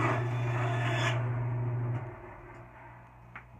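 About an inch is taken off the top of a wooden racing axe handle. A steady, close rasping scrape runs for about two seconds, then stops, leaving a faint tap in near-silence.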